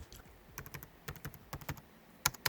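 Fingers tapping keys on an Acer Aspire 5 A514-54 laptop's chiclet keyboard, producing light, quick clicks in an uneven typing rhythm, close and fairly quiet with a couple of sharper strikes near the end.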